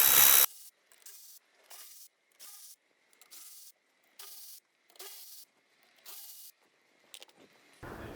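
Torx screws are backed out of the underbody splash pan of a Volvo with a ratchet, giving repeated short bursts of clicking separated by brief silences, close and fairly quiet.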